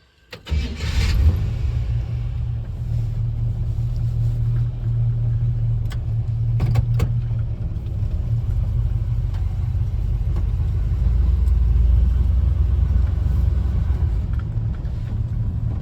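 A 1959 Chevy Apache pickup with a J10 conversion, not driven for a while, rumbles steadily at close range after starting up, a loud continuous low engine drone with no talking.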